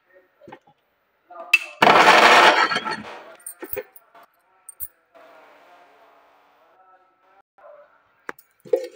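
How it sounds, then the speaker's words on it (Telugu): A mixer grinder jar whirs in one short, loud burst of about a second, then falls away, leaving faint clicks and a low background murmur. "మూత పెట్టి ఒక్కసారి మిక్సీ తిప్పుతాను"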